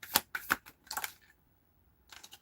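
A deck of tarot cards is shuffled by hand during a reading, giving several quick riffling bursts close by, then a pause and a final softer shuffle.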